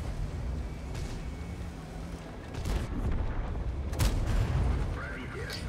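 A tank cannon from a medium tank in World of Tanks fires with a heavy boom amid constant rumbling battle noise and engine drone, followed by further sharp blasts, loud and close.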